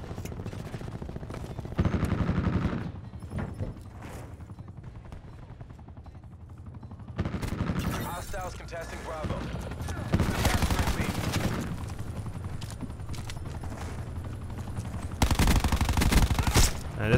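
Gunfire from the Choppa attack helicopter in Black Ops 4, with sustained bursts of rapid automatic fire that come and go in loud waves over a steady rumble, while people talk over it.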